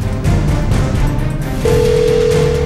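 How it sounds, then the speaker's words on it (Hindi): A telephone sounds in a narcotics bureau headquarters office: a low hum comes first, then a steady electronic phone tone starts partway through and holds loud and unbroken to the end. "अचानक ब्यूरो के मुख्यालय में टेलीफोन की घंटी बजती है।"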